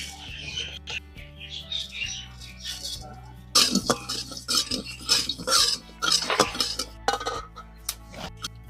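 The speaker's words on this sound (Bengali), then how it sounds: "এখানে আমি শুকনো খোলায় মশলাগুলো ভেজে নেব।" Coriander and cumin seeds dry-roasting in a dry pan for a cauliflower dish, heard as rattling clinks and scraping stirs, sparse at first and then louder in busy bursts of spatula-on-metal contact, up close.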